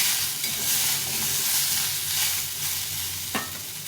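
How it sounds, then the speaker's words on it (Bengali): Bitter gourd, potato and onion fry in a pan with a steady broadband sizzle and occasional stirring scrapes, loud and close, with a brief sharp clatter near the end. "উচ্ছে আলুগুলো ভালোভাবে ভেজে নেব।"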